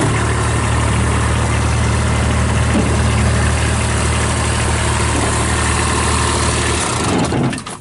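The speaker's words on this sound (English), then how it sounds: "powered by a Kubota D1105 three-cylinder diesel engine" A 2014 Kubota RTV1100 cab UTV with a Kubota D1105 three-cylinder diesel idles close by, a loud, steady, even drone that holds alone with no talk before shifting near the end.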